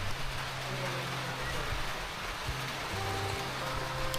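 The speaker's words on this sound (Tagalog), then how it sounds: "bumuhos na ang ulan" Heavy rain pours steadily during a typhoon, a dense, even hiss of water close by with no break, under a low rumble and no talk.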